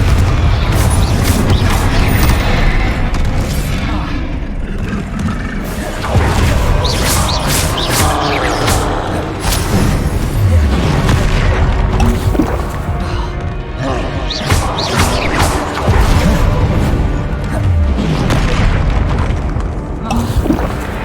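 Confringo fire spells in Hogwarts Legacy blast over and over, a dense run of loud booms, crashes and impacts that never lets up, with a voice repeatedly speaking over the combat.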